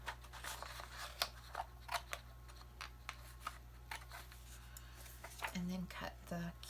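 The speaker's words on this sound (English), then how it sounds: "I'm going to cut right there." Scissors cut paper from an art journal kit, making a series of faint, sharp, close snips at an uneven pace in a quiet room.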